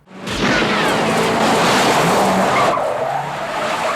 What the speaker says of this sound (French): on replonge dans l'action avec la Chevrolet Impala de Chance et de Vukovic qui foncent sur nous et esquivent de justesse un tir